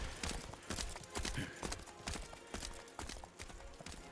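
Horse hooves clip-clopping in the video game Dragon Quest XI S, a busy run of rhythmic hoof falls under layered game audio with a faint voice in the mix.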